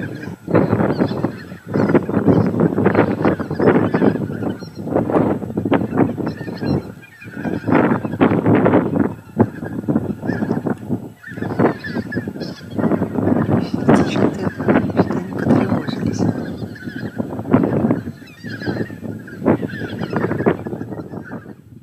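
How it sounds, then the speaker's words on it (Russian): A huge flock of moulting geese gathers on Taymyr tundra lakes, honking continuously in dense, overlapping calls that stay loud and close, with someone talking over them. "такое огромное скопление гусей обусловлено тем, что вот сейчас они линяют"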